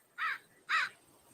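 Blackbirds give two loud, harsh caws in quick succession, each short and raspy, separated by a brief pause over a quiet outdoor background.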